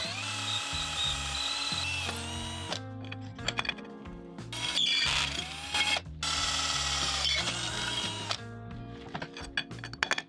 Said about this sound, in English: And there goes the drilling.